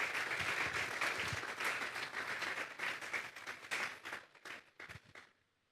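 A church congregation applauds, many hands clapping loudly and briskly, then tapering off into sparse individual claps before stopping.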